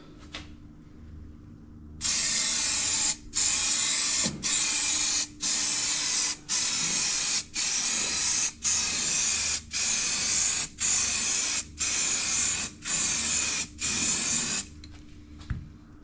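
Coating sprayed onto a boat part makes a loud, steady hiss in about a dozen bursts of roughly a second each, separated by short pauses, over a faint background hum.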